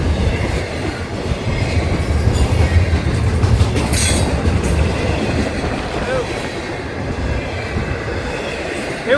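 A train passes close by and picks up speed, its loud rolling rumble and wheel clatter holding steady, with a brief squeal midway and a person speaking under the noise.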